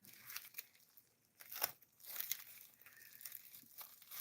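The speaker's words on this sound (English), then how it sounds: "Put a little tape on there." Tape torn off a roll while wrapping a package for shipping, a few sharp ripping and crinkling bursts, close and moderately quiet, with no talk.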